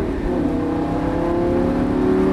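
A Lamborghini Gallardo accelerates on a wet race circuit in the rain, its engine note climbing as a steady, loud drone throughout a short burst with no talk.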